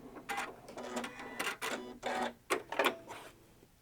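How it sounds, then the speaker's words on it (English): A Janome 9410 sewing machine stitching a zigzag locking stitch in quick mechanical bursts, rapid needle clatter in short pulses with brief gaps, close and fairly quiet. "Keep our foot on the pedal till it does that locking stitch with a stitch in place."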